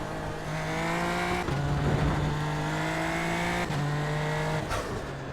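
Super Formula Lights open-wheel race car in the iRacing simulator, its engine droning loud and steady with rising pitch through the gears, brief dips at each upshift and no talking.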